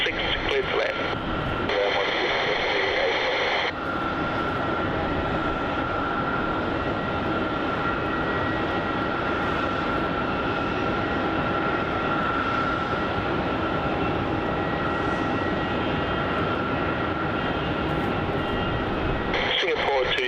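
An airliner landing on runway 27 at Melbourne Airport makes a loud, sustained engine roar that fills the whole stretch, steady in level and near, with a slight shift in tone partway through.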